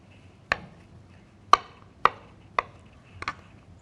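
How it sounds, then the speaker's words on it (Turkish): Raw potatoes diced into small cubes on a board: five sharp knife chops spaced about half a second apart, the last a quick double strike, close and crisp with near silence between. "Güzel bir şekilde şimdi hemen şöyle ufak ufak doğruyorum."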